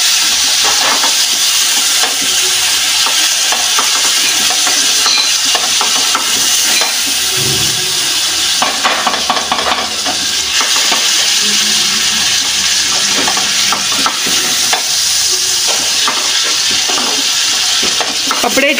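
Onions frying in oil, nearly burnt, while being stirred in a pan for a home-cooked curry, giving a loud continuous sizzle and crackle with scraping stir strokes, close to the pan.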